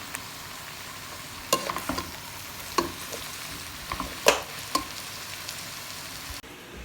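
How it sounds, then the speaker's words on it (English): Coriander sizzles quietly in a hot pan, with a few sharp clinks and scrapes of stirring scattered over the soft, steady frying hiss. "just gonna make the sauce while the coriander is frying away"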